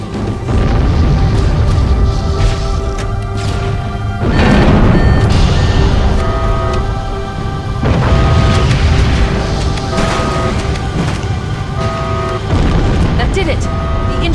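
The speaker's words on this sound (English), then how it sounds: "Use explosives on the other 3 reactors." Heavy explosions from fusion reactors detonating aboard a ship in the video game Halo: Combat Evolved, a dense rumbling roar with repeated crashing booms across the whole stretch, mixed with game sound and talk.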